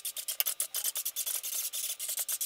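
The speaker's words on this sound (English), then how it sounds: "then I can go ahead and tighten these screws down where it doesn't go anywhere" Screws being driven down to mount a water cooler radiator, heard as a quick, regular series of close, dry rasping turns with brief gaps between strokes and no talking.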